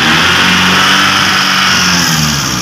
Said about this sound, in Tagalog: painitin natin yung makina para uminit yung tubig.